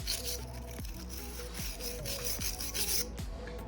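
An Osborn scratch brush scrubs rust off metal threads in quick, repeated back-and-forth strokes, giving a steady, close rasping scrape.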